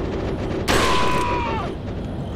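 A gunshot rings out in Resident Evil 4 on Nintendo Switch, one sharp loud blast followed by a ringing metallic tail that fades within a second, over background game sounds.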